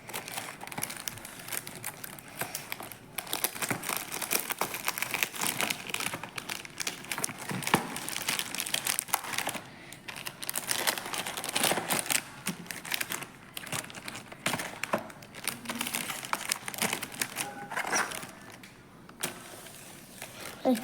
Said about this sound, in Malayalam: ഓക്കെ, ഇത് ഞാൻ അൺബോക്സ് ചെയ്യാം.